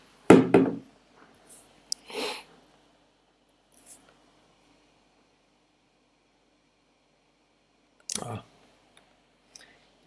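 A computer mouse clicks a few times, sharp and brief, spaced several seconds apart against a quiet room.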